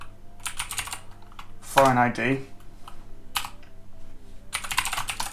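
Rapid bursts of computer keyboard typing sound up close, broken by short pauses, with someone talking in between and over the keystrokes.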